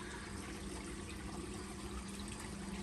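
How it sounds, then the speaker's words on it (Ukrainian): A small river in Kamakura, Japan trickles steadily, a continuous even rush of flowing water with no voices over it. "Якась річка маленька."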